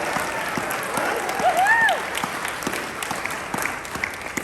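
An audience at an evening Chamber event applauds the MC, broad steady clapping under a brief voice with rising and falling pitch, continuing to the end.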